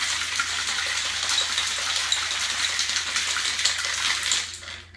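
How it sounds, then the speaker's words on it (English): A margarita poured over ice into a glass, a steady bright gushing splash with faint clinks of ice, close and alone for several seconds. "Pour her in."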